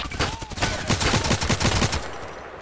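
Rapid automatic gunfire from the online shooter game Contract Wars, fired against a shipping container, rattles in a close, loud burst of evenly spaced shots lasting about two seconds before trailing off.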